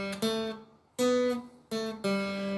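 Three plucked guitar notes from a song's intro ring out one after another, each sharp attack followed by a sustained, slowly decaying tone, with short gaps between.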